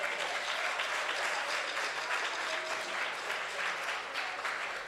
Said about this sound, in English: Give her a loving round of applause